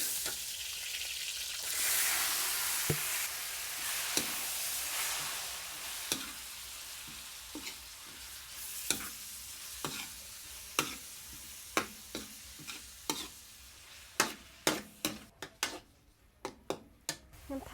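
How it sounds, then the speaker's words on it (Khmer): Vegetables stir-fried with fried garlic in a pan for a Cambodian wedding dish, a steady sizzle with repeated sharp clicks of a utensil scraping and tossing, the strokes growing quicker and more frequent toward the end; no talking. "ឥឡូវនេះងាកមកឆាបន្លែយើងដើម្បីយកមកដាក់ចំហុយ"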